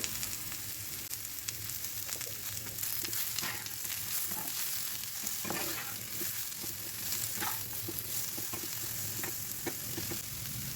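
Sliced bitter gourd slow-frying in oil in a pan, a steady soft sizzle with scattered small crackles and pops, close and continuous with no voices.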